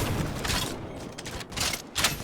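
Sniper rifle shots ring out in Cyberpunk 2077, a few loud cracking reports spaced apart, with sharp bursts near the start, middle and end.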